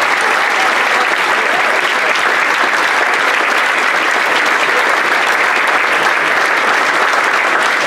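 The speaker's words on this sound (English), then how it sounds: "A big round of applause for all of our players on stage now." Loud, steady applause from an audience at a football club's season launch evening, greeting the players on stage, sustained without break throughout.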